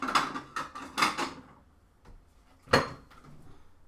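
A knife is pulled out among clattering cutlery and dishes: a quick run of metallic clinks, a pause, then one sharper clash and a few softer taps, close by.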